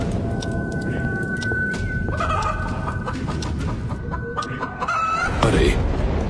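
A hen clucks and a rooster calls over steady, dense background noise, with a louder burst near the end.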